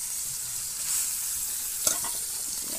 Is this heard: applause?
no